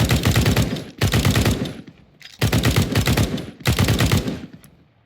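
Counter-Strike 2 SG scoped rifle firing in four sustained automatic bursts of roughly a second each, loud and close, with brief gaps between them and no voices.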